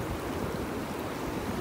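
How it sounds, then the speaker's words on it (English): Ocean surf rolls onto a beach in North Naples, Florida, as the tide comes in, a steady broad roar of breaking water close to the microphone with some wind noise and no talking. "And here comes those waves."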